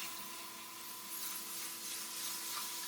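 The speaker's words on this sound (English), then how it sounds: "And then I'm just going to roughly sand this." Rough sanding of a wooden magic wand spinning on a wood lathe, a steady close abrasive hiss over the constant drone of the lathe motor, continuous with no pauses.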